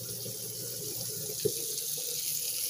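Steady hiss of water running from a kitchen tap into a pot of beans, a continuous close pour with no talk over it.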